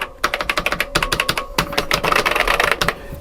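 Fast typing on an Amstrad PC 1512 keyboard, its keys clacking in quick irregular bursts that come loud and close, with brief pauses between runs and no voices.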